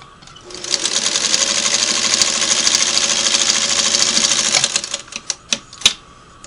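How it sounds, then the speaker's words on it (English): A Singer Model 301A sewing machine runs a steady stitch, its rapid needle clatter loud and close for about four seconds before slowing into a few separate clunks as it stops. "And I'll run another stitch right down next to it."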